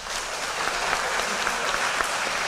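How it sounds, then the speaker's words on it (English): Steady, full applause from a banquet audience at an athletic awards evening, dense and sustained throughout with no break, close and loud. "Let's give another round of applause"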